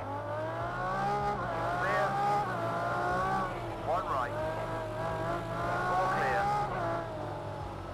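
Race cars in the video game Project Cars 2, including cars such as a Nissan GT-R Nismo, Ferrari FXXK, Mustang GT and McLaren P1, with steady engine drone and rising, shifting revs throughout, a continuous loud engine roar.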